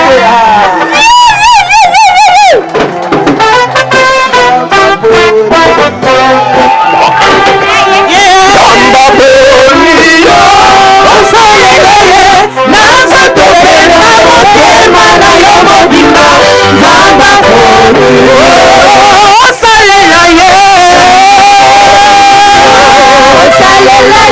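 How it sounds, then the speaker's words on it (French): A congregation at an ordination and certificate ceremony cheers and acclaims loudly and without break, with massed voices, shouts and excited hubbub filling the room. "Nous acclamons le Seigneur pour le diplôme."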